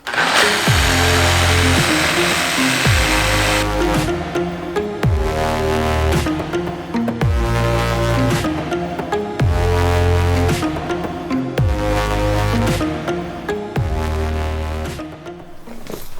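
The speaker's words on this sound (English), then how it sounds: "Now going to jigsaw it, pre-drilled the corners. It's just a matter of cutting out that" A jigsaw cuts through plywood along a pre-drilled outline for an air tank mount in a Nissan Y62 Patrol, buzzing loud and close in steady bursts with brief pauses between cuts.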